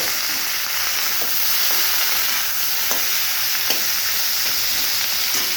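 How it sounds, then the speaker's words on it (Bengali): Pumpkin greens stir-frying in hot oil with crushed garlic and dried red chili, a steady loud sizzle broken by occasional scrapes and clinks of stirring, with no talk. "ভালো করে নেড়ে চেড়ে ভেজে নেব।"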